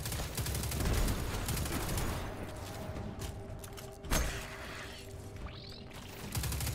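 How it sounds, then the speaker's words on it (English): An auto rifle in Destiny 2 fires in fast sustained bursts, dense and loud at first, then thinning out amid mechanical clanks and one sharp impact, with no talking. "So let's test out this auto rifle."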